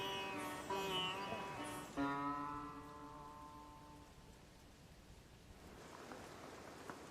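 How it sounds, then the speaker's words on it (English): Pouring rain falls on a Sherpa village in the mountains, a steady wash of hiss that carries on after a few brief tonal sounds at the start. "It's still pouring with rain."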